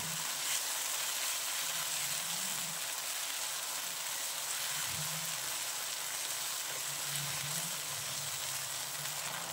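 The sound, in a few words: frying ground mixture in oil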